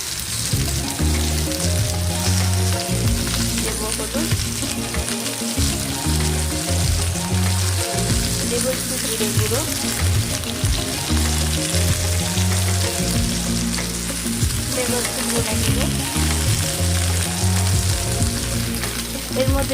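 Vegetables sizzle and crackle steadily in a hot pan, a dense continuous frying noise with occasional stirring scrapes; a voice briefly speaks.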